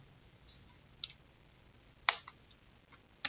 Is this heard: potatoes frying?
no